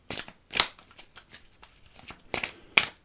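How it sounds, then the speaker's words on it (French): A few crisp card shuffles and snaps as a card is drawn from an oracle deck, close and brief, with a couple of sharper slaps and short pauses, no talking. "Il faut tirer une carte du fantabuleux."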